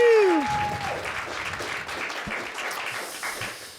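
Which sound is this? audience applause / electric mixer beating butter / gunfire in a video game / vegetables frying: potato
audience applause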